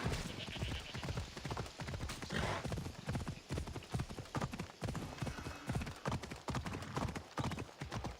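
Horse hooves clip-clop rapidly and loudly in the video game Assassin's Creed Odyssey, a dense, continuous galloping patter with faint voices underneath.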